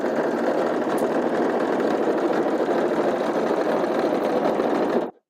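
A sewing machine runs a seam in one loud, close, unbroken whir of fast needle strokes that stops abruptly at the very end, with no talking.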